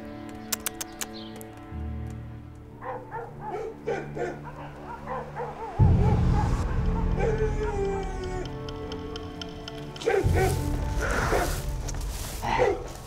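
Barking dog in a Chinese palace period drama, sharp barks set against background music and ambient sounds, with the loudest stretches arriving midway and near the end.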